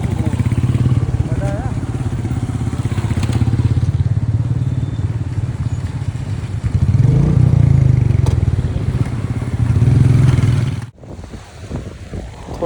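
Motorcycles riding slowly along a muddy road in Nepal, a loud continuous engine drone with rumbling surges, up close and steady before dropping away near the end.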